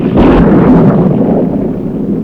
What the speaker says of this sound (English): great storms swept the earth